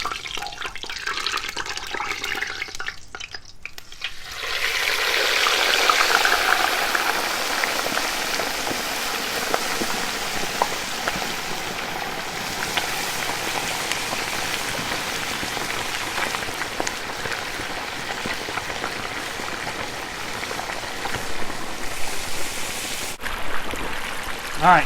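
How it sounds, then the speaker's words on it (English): A turkey sinks slowly into a pot of hot frying oil, raising a loud, steady seething hiss that surges to a fierce crackle early on and then settles into a sustained bubbling roar. "Now you want to go slow because it's going to bubble."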